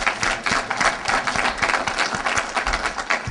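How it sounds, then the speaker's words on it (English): Short burst of clapping from a gathered audience at a Côte d'Ivoire trade fair event in Los Angeles, a dense, loud patter of hands that holds steady for a few seconds. "let's give him a round of applause"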